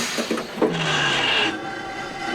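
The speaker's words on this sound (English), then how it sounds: "Ajay, stop the train!" A train from a children's animated show rumbles past with a few knocks of wheels on track, then a sustained horn blast rings out loud and close before it cuts off.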